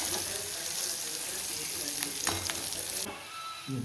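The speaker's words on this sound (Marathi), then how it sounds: "फ्राय करून घेणार आहोत लाल होईपर्यंत. थोडेसे मंद आचेवर गॅस ठेवायचा थोडा." Onion frying in a pan on a gas stove over a low flame, giving a steady close sizzle with faint stirring clatter throughout, alone without talk.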